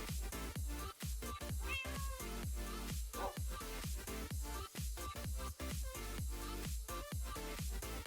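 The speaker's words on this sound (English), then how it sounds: "Kill the cat, it makes too much noise." Repeated meowing from a cat in a Minecraft Skyblock game world, a steady loud series of short close meows in quick succession, layered over continuous background game music.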